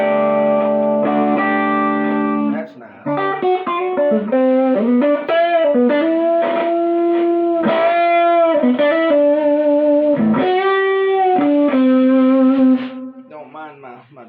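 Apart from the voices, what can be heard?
electric guitar through modded overdrive pedal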